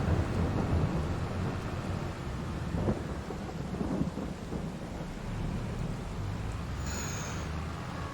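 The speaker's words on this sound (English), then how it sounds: "And the rain's still coming down pretty steady." Farming Simulator 22 game weather: heavy, steady rain hisses continuously while deep thunder rumbles roll through the middle, loud and unbroken, with no talking.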